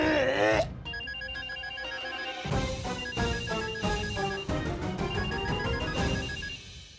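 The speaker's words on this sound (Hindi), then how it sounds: "अरे फोन ही नहीं उठा रही है वो।" A telephone rings repeatedly in steady bursts over a melodic tonal background, with no one picking up.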